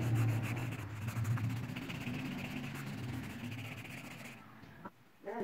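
Orange crayon shading on paper for a scenery drawing, a steady scratchy rubbing close up that continues for several seconds before stopping briefly near the end.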